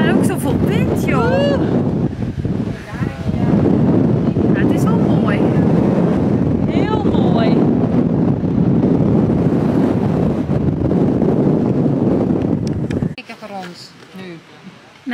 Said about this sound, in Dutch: Maar ook zoveel wind, joh.